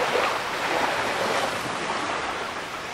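Ocean tide waves roll as a steady, soft wash of surf, a broad hissing rush that swells and eases slightly, with no voices present.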